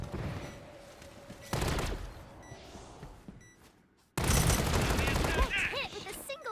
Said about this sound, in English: Michelle is shooting at ghosts right now